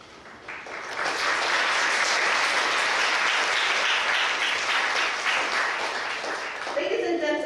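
A hall audience at a Hong Kong secondary school speech day gives a round of warm, sustained clapping that swells quickly and holds steady before tapering near the end.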